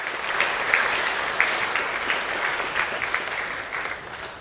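A school assembly crowd applauds award winners with dense, continuous clapping from many people, fairly loud and even throughout, with a few sharper individual claps standing out before it tapers slightly at the end.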